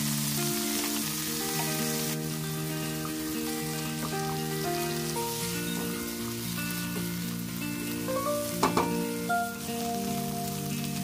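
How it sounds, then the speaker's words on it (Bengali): Boiled vegetables with onion and garlic frying in butter in a frying pan for a quick chicken and vegetable dinner, a steady soft sizzle under background music with a few stirring clinks. "সেই একই ফ্রাই প্যানে আমি একটু বাটার দিয়ে সাথে অনিয়ন, গার্লিক সহ সবগুলো বয়েল করা ভেজিটেবল এখন ফ্রাই প্যানে দিয়ে দিচ্ছি।"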